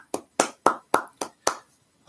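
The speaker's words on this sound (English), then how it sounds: "I'll clap for myself" One person claps their hands in seven crisp, evenly spaced claps, close and fairly loud, with brief silence between each clap.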